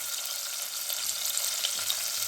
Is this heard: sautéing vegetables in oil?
yes